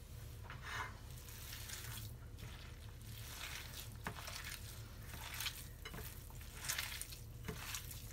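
Hands kneading a minced meat mixture for a Turkish eggplant tray kebab, giving soft, wet squelching and slapping pulses in a steady rhythm, close and moderately quiet, with no talking.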